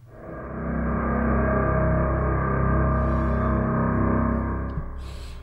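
A single sustained note from a Kontakt bass drone instrument with a distorted tone played at the softest velocity, a thick buzzing drone swelling in, holding steadily for about four seconds and fading, alone with no talk.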